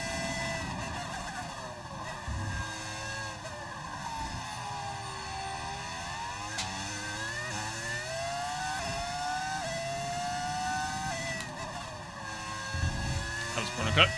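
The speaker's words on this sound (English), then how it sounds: "You can hear the car scraping the ground." F1 car in the F1 25 racing game scraping the ground, a steady engine whine with shifting tones and scraping texture running continuously, loud and close throughout, with a sharper burst near the end.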